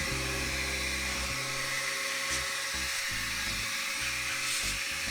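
An electric computer blower for PC cleaning runs steadily and close, a constant loud whirring hiss with a low motor hum underneath that wavers slightly throughout.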